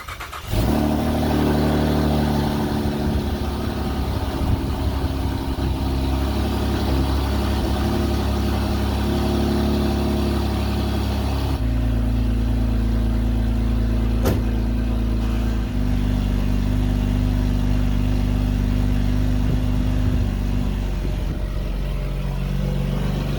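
A tuned Saab 9-3 engine runs steadily at a smooth idle, close and loud with a constant droning hum and a slight shift in pitch midway, with no talking.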